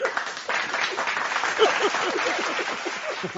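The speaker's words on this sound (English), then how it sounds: "I will clap for that." A small group claps and applauds together, with quick, uneven hand claps close by and a few voices murmuring underneath.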